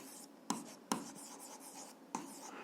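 A pen writes by hand on paper while an algebra equation is worked out, soft scratchy strokes with a few sharper taps, close and quiet with no voices.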